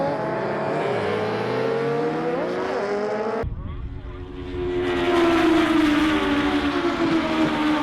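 Race cars in a Legends race roar past toward the hairpin, loud engine notes rising and falling as they pass close by, with a brief drop before a second pack passes, under a commentator's voice.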